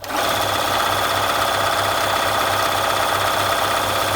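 A Bernina 1130 sewing machine stitches a buttonhole, starting abruptly and running loud and steady, its needle beating a fast even rhythm close by with no pauses.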